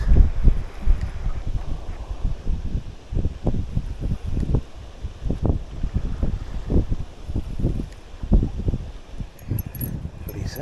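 Strong wind buffets the microphone while perch fishing from a boat on a lake in autumn, with a continuous low roar and rustling gusts, and someone speaks briefly over it.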